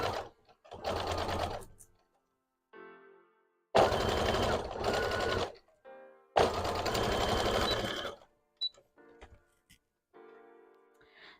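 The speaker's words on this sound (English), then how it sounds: "we're just gonna sew these on" A sewing machine stitches plush legs onto a stuffed toy in three short, close whirring runs, with quiet pauses and small handling noises between them.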